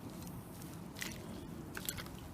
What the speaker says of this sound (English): you're going to take it, squeeze as much of that water out